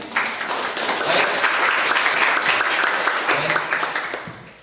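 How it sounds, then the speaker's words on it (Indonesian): Audience applause at a live public speaking session for university students, a dense steady crowd clapping that swells fast, holds for about four seconds and then fades. "Tepuk tangan untuk kita semuanya."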